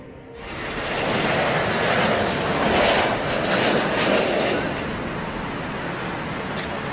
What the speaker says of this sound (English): the A-26 Invader suffered a nose gear collapse while landing at EAA AirVenture Oshkosh.